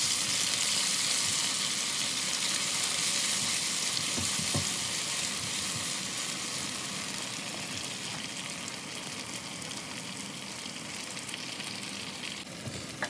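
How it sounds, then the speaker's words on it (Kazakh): Ground meat fries in hot oil in a pan with a steady, dense sizzle that runs throughout, close and even, with a few faint scrapes of stirring. "жақсылап қуырып аламыз."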